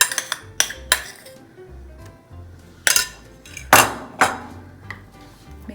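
Dalgona coffee mixture being stirred into eggless cake batter in a bowl, with several sharp clinks of a utensil against the bowl between softer scraping strokes, close and fairly loud.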